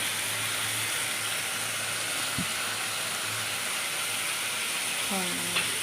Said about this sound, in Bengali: আর যে মাছটা রান্না করতেছি ওই যে একটু কষাতে দিলাম